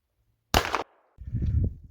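A shotgun fires 7/8 ounce of 7.5 shot at a squirrel target about 35 yards away, giving one sharp, loud blast that stops abruptly, followed by a low rumbling tail.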